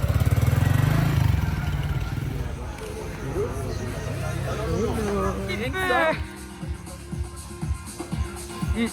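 Quad bike engine revving hard for a wheelie outdoors, a loud rough drone that rises and falls in pitch, then fades to a lower sputtering idle, with people talking over it.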